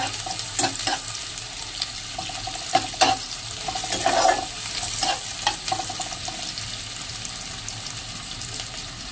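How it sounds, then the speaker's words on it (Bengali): Chopped onions frying in oil in a pan while being browned, a steady close sizzle with intermittent stirring scrapes and clinks of a utensil, no talking. "পেঁয়াজগুলো একটু লাল লাল করে ভেজে নিচ্ছি।"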